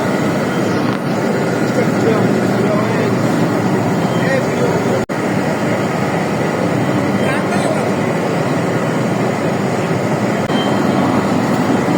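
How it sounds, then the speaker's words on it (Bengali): Processing machines run in a tea factory, making a loud, constant mechanical roar and rumble that fills the space, with one sharp click partway through. "এখানে আরও অনেক মেশিনের মাধ্যমে চায়ের চা উৎপাদনের কার্যক্রম চলতেছে"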